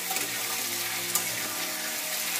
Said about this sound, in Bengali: আলুটা কষিয়ে নিচ্ছি। অল্প একটু চিনি দিচ্ছি